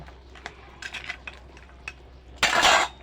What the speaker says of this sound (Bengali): আমি তরকারির মধ্যে এই বড়ি আর সিমগুলো এবার দিয়ে দেব, দিয়ে এটা নাড়িয়ে দেব